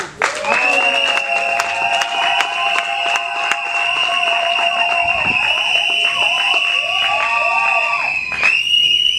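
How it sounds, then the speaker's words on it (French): A wedding assembly applauds and cheers, with steady clapping and raised voices under a loud, continuous high-pitched tone or music running throughout. "l'Assemblée, applaudissons"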